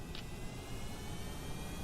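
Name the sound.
jet engine thrust of a plane in video game Kerbal Space Program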